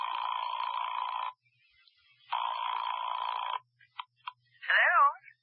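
A telephone rings twice in a radio mystery drama, loud, steady electronic trills each lasting over a second with a pause between, then a click as the receiver lifts and a brief voice answers.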